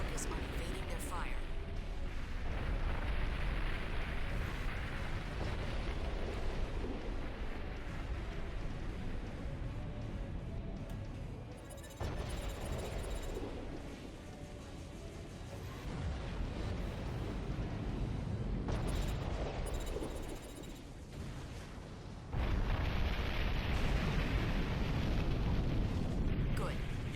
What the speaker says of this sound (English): Those cannons will rip you to shreds.